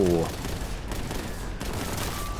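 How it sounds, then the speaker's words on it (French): A gunshot from a Space Marine shooter in the Warhammer 40,000 universe: a dense blast and crackling rumble that fills the moment, with a brief tonal voice-like sound at the start. "Joli coup de fusil"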